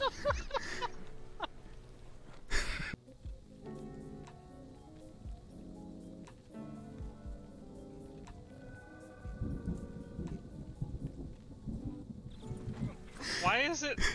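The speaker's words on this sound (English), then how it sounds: "I need to take care of my horse." Horse hooves clip-clopping in a video game, a steady run of hoofbeats under game music, with a person talking over parts of it.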